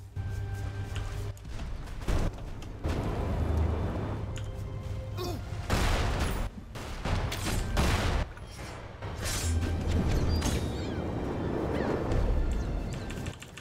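Spell-shooting and magical blasts from the video game Magicka, with dense bursts, crashes and booming impacts repeating throughout the whole stretch, loud and busy over a low steady hum.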